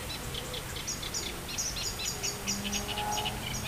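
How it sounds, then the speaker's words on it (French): Several birds chirp and trill repeatedly in a quick rhythm over a steady outdoor background hiss at a fishing pond, moderately distant. "On écoute les chants des oiseaux."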